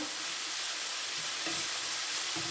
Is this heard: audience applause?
no